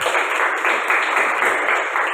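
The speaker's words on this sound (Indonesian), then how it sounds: "Tepuk tangan untuk Gilang, silakan." A small group of students applauds in an Indonesian classroom during a computer hardware teaching session, a steady, dense patter of clapping that holds at the same moderate level throughout with no talk over it.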